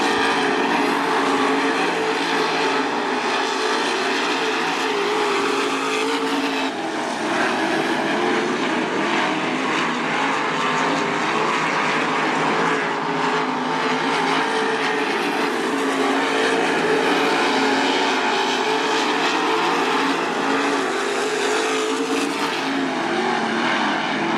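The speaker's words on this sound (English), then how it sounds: "Winding down heat race number 2, all Paul Weaver." 305 sprint cars race a heat at Attica Raceway Park, their engines a loud, continuous roar that swells and fades slightly as the pack circles, with no voices.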